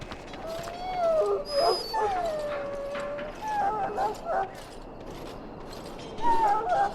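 A dog in the Dragon Age Origins video game whines and howls in rising, wavering cries over a low game ambience, with spoken dialogue mixed in.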